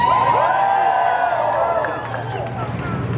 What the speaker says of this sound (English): I swear that cheer was louder.